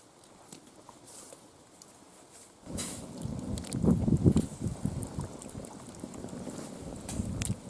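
Soup bubbling in a pot at a forest hut, a soft rolling boil that grows louder partway through and continues steadily with faint clatter, no talking.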